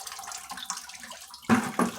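Residual fluid from a Jeep 4.0 engine under rebuild trickles into a bucket close by, a steady watery splatter that surges louder in brief bursts near the end.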